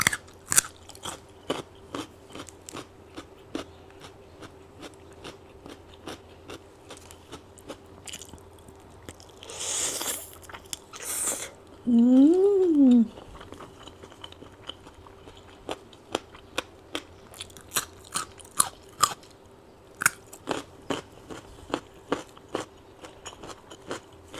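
Sweet baby carrots bitten and chewed close to the microphone, with sharp crunches repeating steadily for a long stretch and a few louder rustling bursts in the middle.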